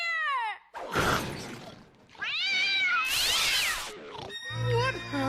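A cat meows several times in quick, loud, drawn-out cries, mixed with animated voices and sound effects.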